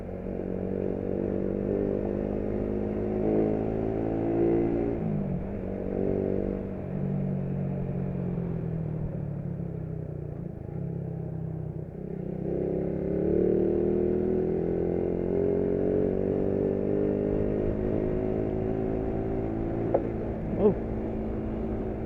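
A Raider 150 motorcycle runs at full throttle, its engine whining steadily with pitch rising and falling through gear changes, heard from close by at moderate loudness.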